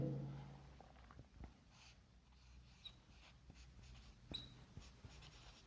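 Faint, sparse scratches and taps of chalk or marker on a classroom board during a physics lesson, quiet and intermittent with no talking.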